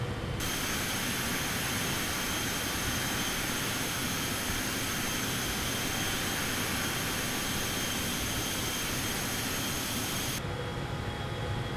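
An aircraft engine climbs after takeoff in Microsoft Flight Simulator 2024, a loud, steady, close roar that runs unbroken throughout, its hiss thinning slightly near the end, with no voices.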